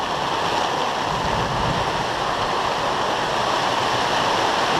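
Water draining through a hole cut in a roof, a loud, continuous rushing roar, close and unbroken throughout.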